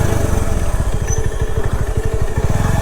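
A motorcycle engine runs close by with a rapid, even low-pitched putter, loud and steady throughout the short stretch near a temple construction site.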